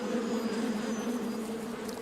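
Bees in the garden of the video game Wizard101 make a steady, close buzzing drone that runs without a break through the short clip.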